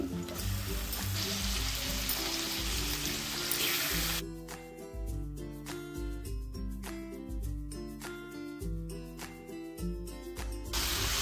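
Chicken goes into hot oil and spice paste and fries, giving a loud, hissing sizzle that then breaks into bursts of crackling and spoon clatter against the pan, close by with no voices.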